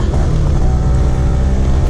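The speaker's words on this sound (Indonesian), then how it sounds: "Mesin juga masih halus." A 1998 Yamaha Sigma motorcycle engine running steadily on a test ride, a continuous low, even drone at constant loudness with no voices over it.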